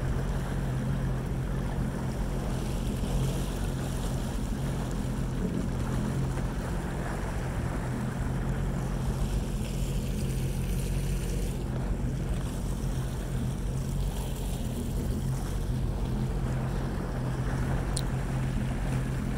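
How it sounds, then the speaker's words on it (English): A jet boat runs up a narrow, shallow river, its engine holding a steady, loud low roar mixed with wind and water rush for the whole stretch, with no voices. "you'll see why this jet boat's awesome in these river systems"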